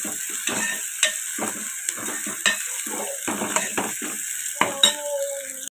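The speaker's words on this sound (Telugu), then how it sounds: "అల్లం వెల్లుల్లి పేస్ట్ వేసుకొని బాగా కలుపుకోవాలి." Ginger garlic paste stirred in a hot pan for moong dal, a steady sizzle under repeated scrapes and light clinks of a spoon against the pan.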